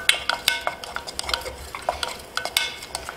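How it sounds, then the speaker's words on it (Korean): Onion lightly sautéing in melted butter over low heat for a potato cream soup, giving a soft sizzle with repeated clinks and scrapes of a utensil stirring in the pan, close and fairly quiet. "살짝만 볶아줍니다."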